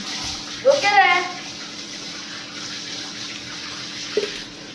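Water runs steadily into a cooking pot while veg biryani is prepared, a continuous close wash of pouring with a couple of brief clatters near the start and end.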